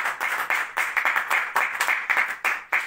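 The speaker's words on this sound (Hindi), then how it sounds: "तालियों की गड़गड़ाहट के साथ।" Audience at a community gathering claps, with a dozen or so distinct bursts of applause arriving in a loose, uneven rhythm. It is moderately loud and close, with no voices over it.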